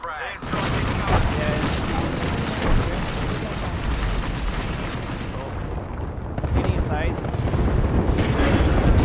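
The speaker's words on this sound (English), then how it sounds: "Firing a frag." A frag grenade goes off in a squad-based shooter video game, heard as steady booming, crackling gunfire and explosions that run the whole way through.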